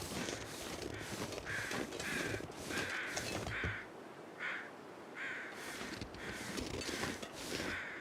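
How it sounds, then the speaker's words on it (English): Several crows caw repeatedly outdoors in a rural valley, harsh calls coming in uneven bursts at moderate distance over a quiet background, with a brief lull midway before the cawing resumes. "we have some crows that are interested in something somewhere"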